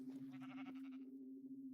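Minecraft sheep bleat in a swamp, a short, nasal electronic baa with a steady low tone held underneath, fairly clear and up front.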